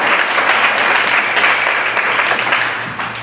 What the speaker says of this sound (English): Other round of applause for Mike.